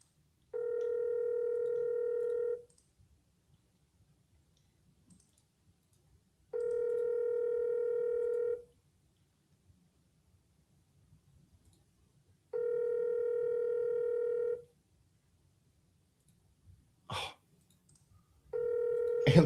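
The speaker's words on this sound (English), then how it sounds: "Answer the phone, Jimmy" An outgoing phone call to a lawn care business rings with a steady electronic ringback tone. Three full two-second rings repeat at even intervals of about six seconds, a brief click-like noise follows, then a fourth ring begins. The line is quiet between rings.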